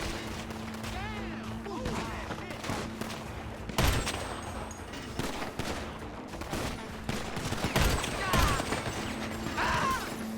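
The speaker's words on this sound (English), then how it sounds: "That's a sniper rifle." Sniper rifle gunfire in GTA V Online: several heavy shots punch through busy game noise and mechanical clatter, with two standing out clearly, while a player talks throughout.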